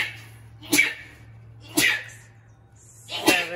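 Three sharp sneezes, evenly spaced about a second apart, each a sudden burst over a low steady hum.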